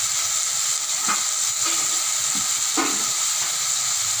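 Tomato and onion sauté in a hot pan, giving a steady, close sizzling hiss with a few soft clinks and scrapes from stirring. No one speaks.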